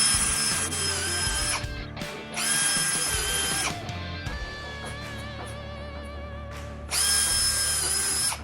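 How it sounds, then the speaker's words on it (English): A power drill countersinks screw holes in a wooden board for a table saw spline jig, whining loudly in three long bursts with a quieter stretch of motor hum and clicks between them and no talking. "then we're going to countersink some holes to screw in this piece to our base"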